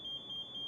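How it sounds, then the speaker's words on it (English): The PASS alarm on an MSA G1 SCBA sounds a steady, piercing high-pitched electronic tone in pulsing bursts, loud and alone without any voices. "The pass device goes into full alarm to alert those who are close by."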